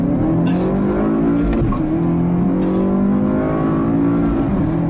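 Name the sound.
Cadillac ATS Coupe burnout, engine revving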